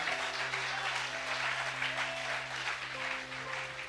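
A church congregation applauds loudly and continuously during a sermon, a dense wash of clapping over a sustained organ or keyboard chord.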